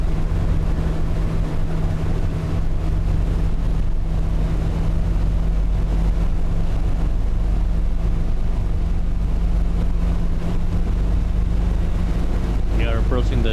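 A Mazda MX-5 engine drones at full throttle around the Nürburgring, a steady, even hum with strong wind rush, while someone talks over it.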